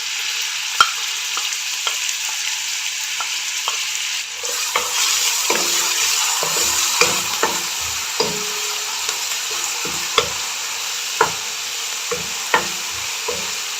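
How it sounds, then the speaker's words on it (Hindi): Finely chopped onion frying and being stirred in a pan, a steady close sizzle broken by regular scraping and clacking strokes of the spoon, with no talk. "प्याज को हम भून लेंगे।"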